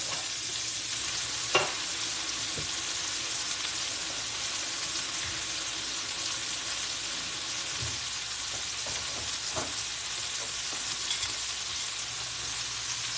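Fries frying in hot oil for a turkey burger meal give a steady, close sizzle with a constant hiss and a few soft pops and clicks scattered through.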